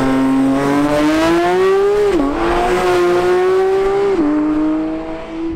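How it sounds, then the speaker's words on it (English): Porsche 992 GT3 sports car on its first drive, a loud close engine note with a steady harmonic drone that rises through the revs and drops sharply at two gear changes, no voices. "it's the first drive in the 992 GT3"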